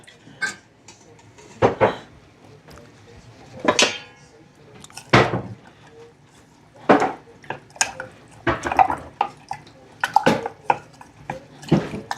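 Fermented pineapple scrap liquid for tapache strained off into a vessel, giving scattered clinks and knocks of kitchenware with soft liquid trickles and drips, close and moderately loud in bursts.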